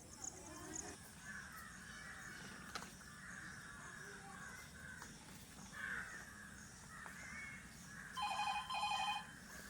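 Telephone ringing faintly at the end, a brief trilling ring set against steady outdoor background with crows cawing and a voice speaking.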